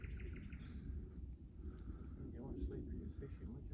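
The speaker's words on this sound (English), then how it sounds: "Those birds making some nice sounds, aren't they? They're noisy." Birds chirp and call intermittently in the distant woods, faint high notes over a steady low rumble of outdoor background noise.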